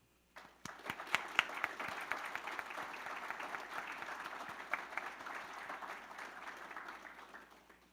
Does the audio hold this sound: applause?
yes